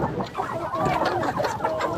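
Chickens in a poultry yard cluck continuously and close by, with overlapping busy calls from several birds.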